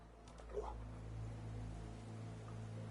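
Dogmeat, the dog companion in Fallout 4, gives a soft, short whimper or yip, faint and brief over a low steady game ambience.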